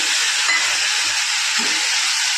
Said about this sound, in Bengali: এবার মশলার পেস্টটা আমি দিয়ে দেবো কড়াইতে